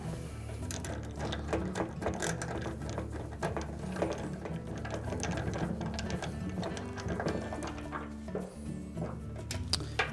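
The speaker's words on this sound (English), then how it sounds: "we'll start one of the screws to secure it" A screw is driven to secure a baffle inside a Whirlpool dryer, heard as a continuous ratcheting, clicking mechanical whir at close range that runs the whole time with no talk.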